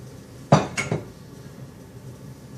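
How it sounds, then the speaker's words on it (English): Spoon knocking against a pan while eggs are stirred around sausage for a sage turkey rope sausage frittata, three quick clattering hits close by, then quiet. "Add the eggs, stir the ingredients around a little bit, around the sausage."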